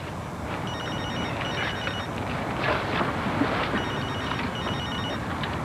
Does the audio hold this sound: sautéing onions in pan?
no